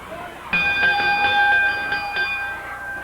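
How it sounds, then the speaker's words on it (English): A ring bell clangs repeatedly in a 1980 Memphis studio wrestling match, several sharp metallic strikes with ringing overtones over crowd noise and commentary. "Referee says ring the bell."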